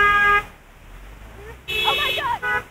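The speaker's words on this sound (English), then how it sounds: "Honking for me, that one." Car horns honk on a road in Singapore in two bursts, a steady tonal blast at the start and a longer, louder stretch near the end, with people talking over the traffic between and during them.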